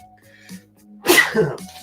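A single sharp human sneeze bursts out close by after a brief quiet lead-in, followed by a short trailing breath.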